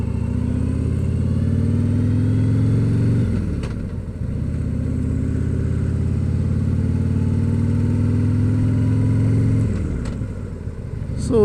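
A motorcycle cruising on a road, its engine droning steadily and close with a brief dip in power partway through before it pulls again; no talking.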